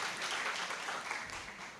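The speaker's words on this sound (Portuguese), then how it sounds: "uma salva de palmas para eles" Applause for the organisers of a mental health care event, a steady wash of many hands clapping together, fairly soft and continuous throughout.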